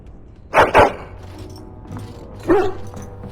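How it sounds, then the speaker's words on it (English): A dog in the fantasy role-playing game Dragon Age: Origins gives two quick close barks, then a softer single yip after a short pause, with no talking. "Hello, doggy."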